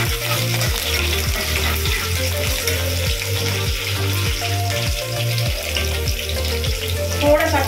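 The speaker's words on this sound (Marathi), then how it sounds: "तेल गरम झालेलं आहे. आता यामध्ये आपण कांदा घालूया." Onion and curry leaves fry in hot oil for an egg curry, a loud continuous close sizzle with a regular rhythmic scraping of a spoon stirring the pan about once a second.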